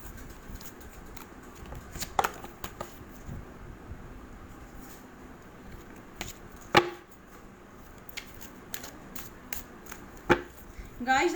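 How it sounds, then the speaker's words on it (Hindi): A deck of tarot cards being shuffled by hand: soft, irregular pattering and riffling with a few sharper slaps and clicks spaced out every few seconds, fairly close and quiet against a low room hush. "मैं कार्ड शफल कर लेती हूँ।"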